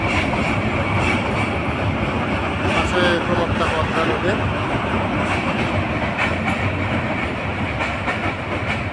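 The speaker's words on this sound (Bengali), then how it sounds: "ট্রেন চলে যাচ্ছে" A train rumbles steadily past over the Hardinge Bridge at Paksey, Bangladesh, with a dense, continuous roar and faint rhythmic clatter, while a person speaks briefly over the noise.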